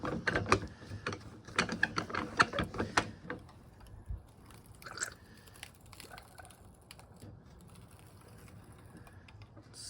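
Pumping the handle of a Harbor Freight hydraulic jack after a fluid fill makes a quick series of close, faint mechanical clicks and ratcheting knocks for a few seconds, then near-quiet with scattered small taps.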